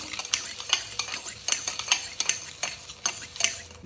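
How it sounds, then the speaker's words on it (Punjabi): A teaspoon clinks and scrapes against a plate while whisking a cold coffee mixture by hand, in steady repeated strokes, close and fairly loud, with no talking. "ਇਸ ਤਰ੍ਹਾਂ ਪੌਣੀ ਨੂੰ ਘੁਮਾਵਾਂਗੇ ਲਗਾਤਾਰ ਅਸੀਂ ਇਹਨੂੰ ਘੁਮਾਉਂਦੇ ਰਹਾਂਗੇ"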